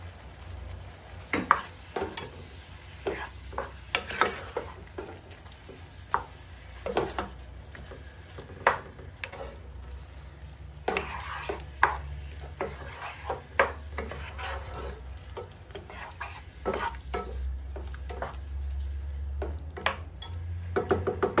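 Paprika being stirred into a pasta mixture in a pan, with steady frying sizzle under repeated scraping and clinking of a utensil against the pan throughout.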